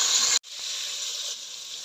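Vegetables frying in a pan for khichuri, a steady close hiss of sizzling oil that cuts out briefly and then resumes a little softer.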